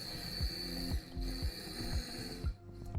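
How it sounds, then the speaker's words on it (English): Small food processor whirring as it blends garlic, Parmesan, salt, pepper, spinach and basil for pesto, a steady close motor drone with a high whine and repeated rhythmic thumps as the contents churn, stopping near the end. "So I'm adding the garlic and Parmesan cheese, salt and pepper, and starting the food processor."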